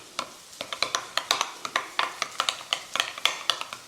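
Greek yogurt dressing stirred briskly in a bowl, a rapid run of close, regular scraping and clicking strokes with no talking.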